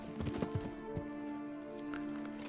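Horse hooves clop through bushes in a short burst of close, uneven footfalls, then quieter rustling and faint steps under a steady low hum, with no talking.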